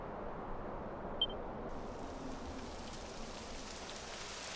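Rain begins to fall in the PS4 video game Dragon Quest XI, a soft, steady hiss of rainfall with no voices, kept at a low level throughout.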